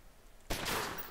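A gunshot bursts out in Omerta: City of Gangsters, a sudden loud crack halfway through followed by a broad noisy blast that lingers, after a faint quiet lead-in.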